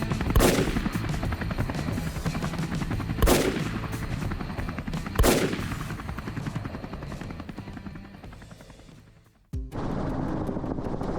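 Rifle shots from hunters firing at fleeing wild boars over farm crops, three sharp loud cracks a couple of seconds apart and one more near the end, over a continuous helicopter drone.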